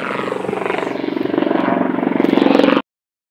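Loud helicopter rotor thumping in a fast steady pulse with engine whine, building slightly before cutting off abruptly.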